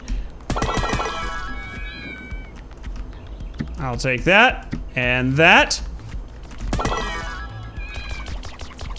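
Cats meow repeatedly in the Tower Unite video game, with a close, loud pair of drawn-out meows in the middle and shorter ones around them, mixed with game sounds while players talk excitedly over them.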